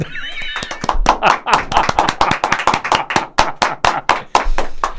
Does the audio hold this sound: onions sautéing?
no